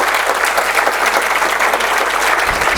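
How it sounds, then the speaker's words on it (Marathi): An audience claps steadily and loudly for a performing duo at a stage event, a dense, sustained wash of applause throughout. "एकदा टाळ्या वाजवूया माधुरीताई आणि श्रीपादजींसाठी."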